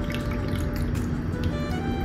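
Water poured into a vessel for rice flour dough in a kitchen, a short, steady close pour with dripping and liquid splashing running continuously.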